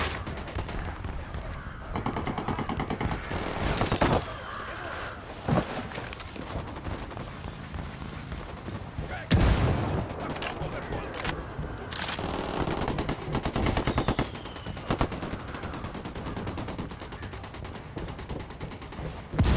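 A shootout in Ghost Recon Wildlands with a sniper firing: repeated gunshots and rapid bursts crackle throughout, punctuated by several loud, sharp blasts amid a dense, noisy battle.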